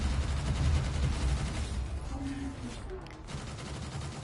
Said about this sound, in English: Shoot down the missiles. Blast him.